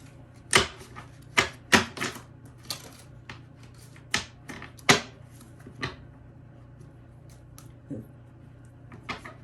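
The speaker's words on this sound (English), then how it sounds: "Give it a couple of shuffles and see what wants to come through." Tarot cards being shuffled close by, heard as a series of sharp, uneven slaps and taps with pauses between, no speech.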